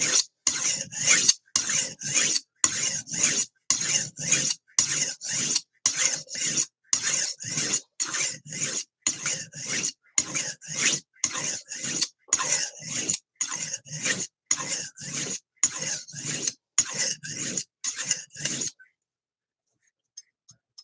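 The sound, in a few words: knife being sharpened on a sharpening stone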